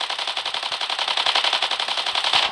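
Rapid, continuous automatic gunfire from a video game, a steady rattling burst of shots at even rhythm, loud and close with no pauses.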